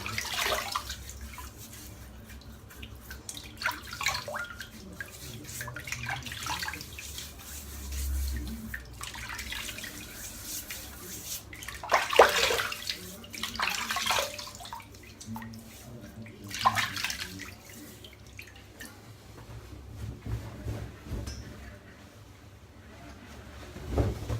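Tap water runs steadily to wet a head before a shave, a continuous splashing stream with shifting intensity and occasional louder surges, close and moderately faint.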